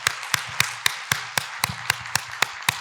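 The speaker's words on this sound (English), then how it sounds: "Let's give her a hand clap." Rhythmic clapping for a woman introduced at a women-in-politics gathering in Nyeri County: about a dozen crisp, evenly spaced claps, fairly close and steady, with no talking over them.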